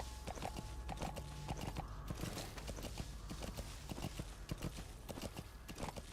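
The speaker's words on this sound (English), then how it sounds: "Yes, the normal horse doing horsey things." Horse walking in the video game Metal Gear Solid V, a steady clip-clop of hooves over a constant low ambient bed, moderately close and continuous.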